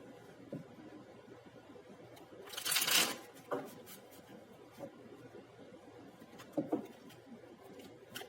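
A deck of tarot cards is handled and shuffled close by, with one brief, loud riffle burst amid quieter rustling and soft card slaps.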